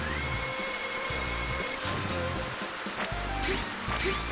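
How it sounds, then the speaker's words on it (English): Steady rain pouring outside, a continuous broadband hiss with patters, under faint indoor hum. "It's actually raining here today as well."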